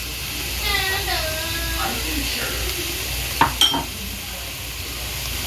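Chopped garlic with basil and parsley sizzles in a pan for lasagna as it is stirred, a steady close hiss with soft scraping strokes and a faint voice-like murmur over it.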